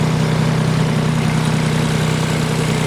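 A 2003 Kubota BX2200 compact tractor engine running steadily while in gear, a loud, even mid-low drone with constant vibration and no change in pace.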